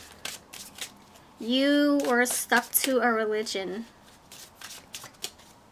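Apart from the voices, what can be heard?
shuffling tarot cards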